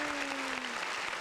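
A live studio audience applauds at the start of a podcast taping, a short burst of dense, even clapping, fairly quiet, with a faint steady tone running underneath.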